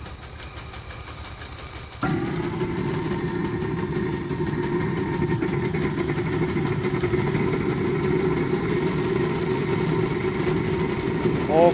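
An old hot-bulb tractor engine gives a steady, loud drone with a constant hiss throughout, starting up abruptly early on and holding a rough, continuous rumble.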